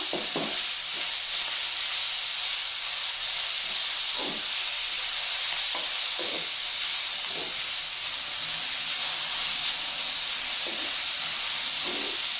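Carrot rice frying in a pan gives off a steady, loud hiss like steam, broken by a few soft knocks and scrapes.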